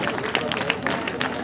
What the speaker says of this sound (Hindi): जोरदार तालियां चाहूंगा श्रीमान रमेश जी के लिए।